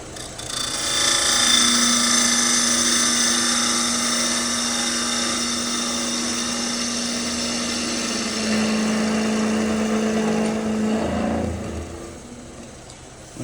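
Wood lathe cutting a wooden pepper mill blank, a steady sustained whirring drone with a bright tonal whine from the spinning workpiece and tool contact, loud and continuous before easing off near the end.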